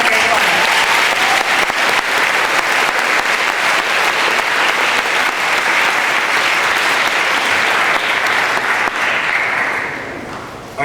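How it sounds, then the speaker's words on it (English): An audience at a 2005 talk on Bhopal and environmental health applauds speaker Gary Cohen with dense, continuous clapping that stays loud throughout and thins out slightly just before the end. "Please give a warm round of applause to Gary Cohen."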